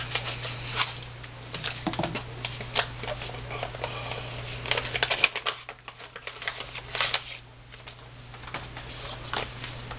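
Close, crisp rustling and tearing of a paper trade envelope being cut open, with irregular crinkles, taps and handling noises over a low steady hum.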